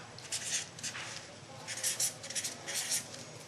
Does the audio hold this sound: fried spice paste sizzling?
no